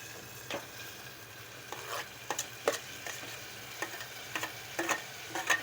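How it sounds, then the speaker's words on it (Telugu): Tomatoes frying in a pan after being added to browned ingredients, a soft low sizzle with occasional light clicks and scrapes as a spoon stirs, quiet and close, no talk. "ఇలా వేసుకోవాలి వేసుకున్న తర్వాతకి ఇలా కలపాలి కలుపుకోవాలి"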